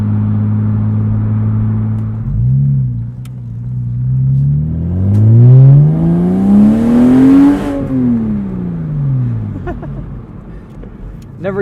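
A Porsche Boxster's flat-six engine idles, then revs hard, climbing past 7,000 RPM into a rising, loud mechanical howl before falling back down, heard close and strong with a rumbling low end throughout.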